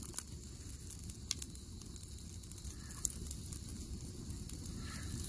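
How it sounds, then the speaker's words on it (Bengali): Firewood crackles and burns steadily in an outdoor cooking fire heating a pot of rice and roasting an eggplant, with a soft continuous hiss and occasional sharp pops and snaps up close. "তো সেই জ্বলতেছে লাকড়িগুলা"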